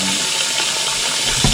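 Tap water gushing steadily into a pot of potatoes, a loud continuous rushing fill with no talk.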